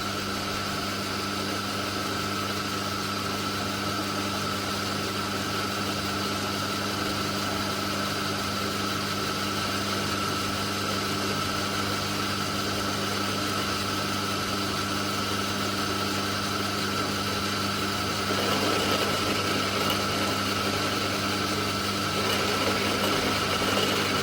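A lathe turns a combined steel and brass hammer head, cutting into the brass: a steady, even mechanical drone with tonal hum that holds for over twenty seconds and grows slightly louder and rougher near the end.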